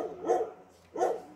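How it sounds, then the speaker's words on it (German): A dog out in a garden gives two clear barks about three quarters of a second apart, moderately loud and close, with no talk over them. "Ich muss meinem Hund hier immer ein bisschen mal zur Ruhe besänftigen, weil der sitzt nämlich momentan im Garten."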